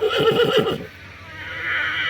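A horse whinnies loudly in a shaky, rising-and-falling call for under a second, followed by quieter background noise.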